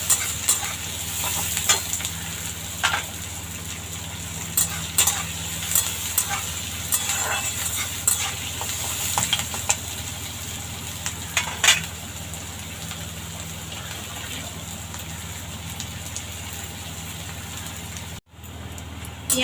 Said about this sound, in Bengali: পেঁয়াজটা এবার লাল করে ভেজে নেব।